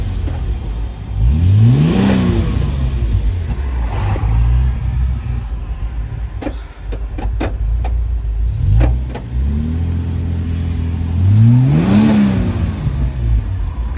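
A car engine runs close by and the throttle is blipped repeatedly, rising in pitch and falling back three times to idle between rough revving bursts, with a few sharp clicks and no talking.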